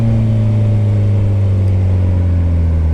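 A 2010 Kawasaki Ninja ZX-14R, a drag-racing-tuned motorcycle, holds a loud, steady engine drone at close range, its deep idle hum rising slightly as it revs with no talk over it.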